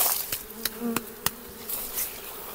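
Honeybees shaken off a brood frame a few metres from the hive give a steady soft buzzing hum, broken by several sharp knocks from the shaking, with no talk.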